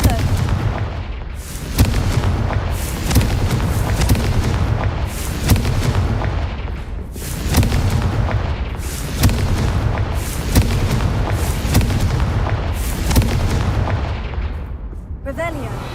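Repeated Confringo blasting-spell explosions in Hogwarts Legacy, loud booming bursts arriving every second or two over a dense, continuous bed of game combat sound.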